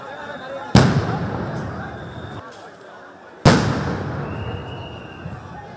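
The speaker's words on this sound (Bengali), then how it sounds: "পুলিশও লাঠিপেটা ও সাউন্ড গ্রেনেড মেরে ছত্রভঙ্গ করে দেয় বিক্ষুব্ধদের।" Police sound grenades explode during the dispersal of protesters in Dhaka: two loud, sharp blasts a few seconds apart, each followed by a long rumbling decay over crowd noise.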